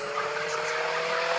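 Steady whirring engine of a car in the driving game City Car Driving, a constant drone held evenly at moderate loudness with no speech.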